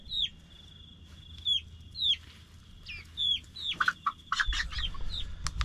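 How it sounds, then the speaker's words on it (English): A rooster's repeated high, squeaky clucks and chirps, spaced at first then more rapid, close by with some handling rustle and low background noise. "So, here's my little mate, the rooster."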